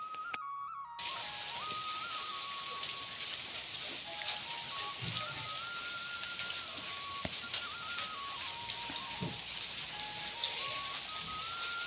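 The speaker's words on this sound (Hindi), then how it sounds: "बारिश आई है" Steady rain patters and hisses throughout, with a faint whistle-like tone drifting above it and a few brief knocks.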